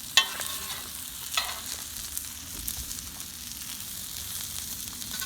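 Oil sizzling faintly on a Mojoe griddle before steaks go on, a soft steady crackle with a couple of brief scraping clicks near the start, close and quiet, no talk.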